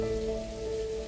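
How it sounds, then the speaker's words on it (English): Rain from evil clouds in a video game, a steady wash of falling drops pattering on a surface with a tonal game hum running underneath, continuous and even for about a second. "Rains until it withers away."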